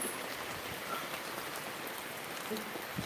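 Rain falls in a village, a soft, even hiss of drops that is faint and steady throughout, with no voices.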